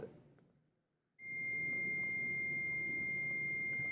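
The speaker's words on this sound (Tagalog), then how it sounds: "Kung napakinggan nyo, meron tayong buzzer sound na nasusukat." A digital multimeter's continuity buzzer sounds as its probes test an inductor in circuit. After a brief quiet, it starts abruptly as a loud, steady, high electronic tone held without a break to the end.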